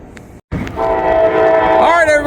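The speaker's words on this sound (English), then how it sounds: "Z150 for Norfolk Southern coming up. Intermodal train here." Norfolk Southern intermodal freight train passing at a station, its horn sounding a loud sustained blast after a brief dropout, with rumbling rail noise beneath and a pitch shift near the end as it goes by.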